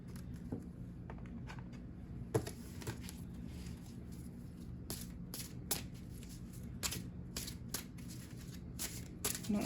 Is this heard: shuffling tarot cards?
yes